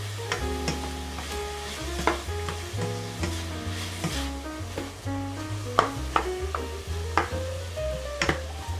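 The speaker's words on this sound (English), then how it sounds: "this has to be sauteed over medium heat" Ingredients for Alfredo pasta sauté over medium heat, sizzling steadily while a utensil knocks and scrapes in a regular stirring rhythm, with a low hum running underneath.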